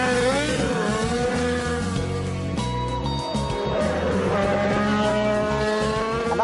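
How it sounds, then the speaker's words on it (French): A Renault RS01 Formula One car screams up the Goodwood Festival of Speed hill climb, loud sustained engine revving with rising and falling pitch through gear changes, while a voice narrates over it. "a renoué cette année avec la RS01 lors du festival de Goodwood, n'hésitant pas à mettre les gaz"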